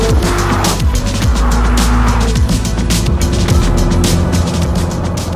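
Ferrari 488 Pista driven hard, a loud continuous close engine roar with rapid shifting revs and tire squeal, no speech.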